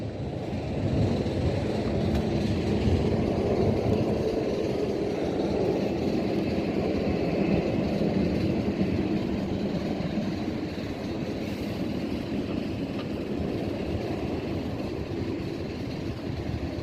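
Steady roar of a TUI Belgium Boeing 787-8 Dreamliner landing and rolling down the full length of the runway, heard from nearby as a continuous broad rumble with no talking.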